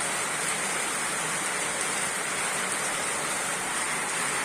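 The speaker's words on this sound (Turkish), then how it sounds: "Böyle yağıyor işte yani klasik yağmur." Steady, dense rain pours down continuously, a constant hiss with no pauses, fairly close and loud.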